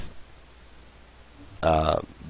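A single short, loud burp erupts near the end over a quiet background, heard during a live esports broadcast.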